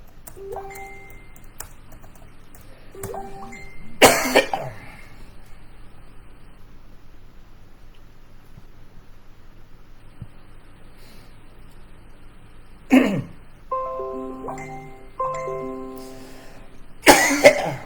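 Person coughing, three harsh bursts spread across the stretch with long quiet gaps between them, each followed by faint voiced tones.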